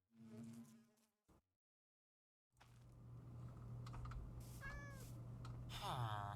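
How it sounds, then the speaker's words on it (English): A cat meows in the Minecraft video game, several short rising mewing calls over a steady buzzing in-game background hum after a brief silence. "I just heard a cat."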